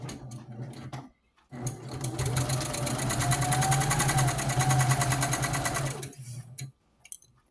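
A sewing machine back stitches a seam on scrap fabric for a doll quilt, running as a steady, close, loud mechanical whir for about five seconds before stopping, with brief quiet gaps on either side.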